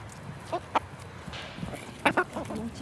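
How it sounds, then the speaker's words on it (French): Several hens in a small urban henhouse with nine chickens cluck nearby in short bursts, a few sharper calls rising over soft background noise. "Mon petit poulailler avec 9 poules."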